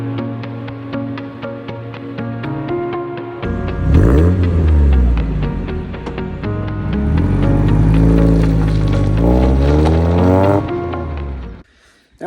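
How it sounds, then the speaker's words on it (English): A 1990 Mazda MX-5 Roadster engine, an imported Eunos, revving close by: a steady idle that rises and falls through several throttle blips and sustained revs before cutting off. "So I have bought a 1990 Mazda MX-5 or Unos Roadster"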